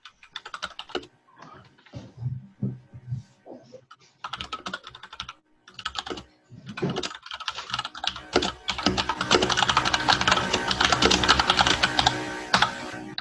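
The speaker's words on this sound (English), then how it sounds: "Someone's typing away." A computer keyboard clatters during a video call, starting with scattered bursts of keystrokes and building to dense, continuous typing that sounds close and fairly loud.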